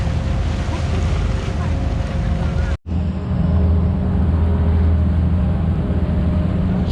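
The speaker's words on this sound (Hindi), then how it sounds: "छलने, कश्ती की वजह से छलने मारता हुआ पानी" Water churning and splashing beside a small boat crossing Dubai Creek from Bur Dubai to Deira, a loud, continuous rush with engine rumble and wind buffeting, broken by one brief dropout.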